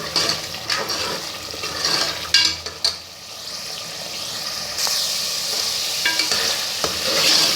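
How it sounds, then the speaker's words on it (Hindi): Goat mutton sizzles in a pan while being stirred, with a busy frying hiss broken by scraping and clattering of the spoon against the pan, close and continuous with short louder bursts. "मैंने अच्छी तरह गोश्त को भून लिया है।"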